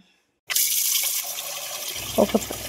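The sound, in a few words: water poured into a bowl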